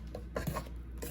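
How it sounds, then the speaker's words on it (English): Red velvet cake batter being stirred in a bowl, with soft scraping and rubbing strokes at a steady close pace, alone over a low background hum. "I'm gonna give it just a little bit more of a mix"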